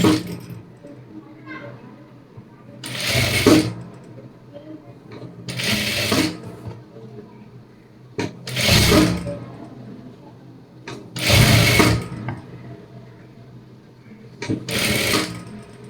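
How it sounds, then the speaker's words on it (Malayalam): A sewing machine stitches a folded armhole hem in short bursts of rapid whirring, about five runs separated by pauses, close and clear, with a voice speaking in the quieter gaps. "കൈക്കുഴി മടക്കി തയ്ക്കണം"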